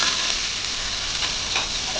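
Hot oil sizzles in a heated cooking pot, a steady, bright hiss with faint crackles and pops running evenly throughout.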